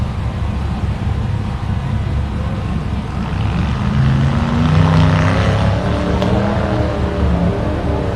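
The engine of an off-road rock racing vehicle strains on rocky terrain at an off-road park, a loud continuous rumbling drone that swells and labors without climbing cleanly in pitch.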